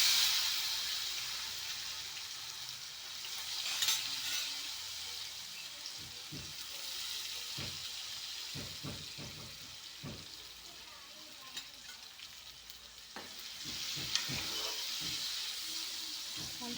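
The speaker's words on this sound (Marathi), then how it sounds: "आता टमाटे टाकून घेऊया।" Tomatoes fry in a pan with spices, a soft sizzling hiss broken by repeated clanks and scrapes of stirring, moderately close and fairly quiet throughout.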